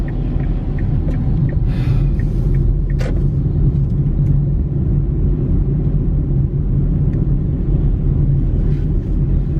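A car drives along a road, with a continuous low rumble of engine and tires heard from inside the cabin, steady and fairly loud, with a few faint clicks and a brief higher rustle.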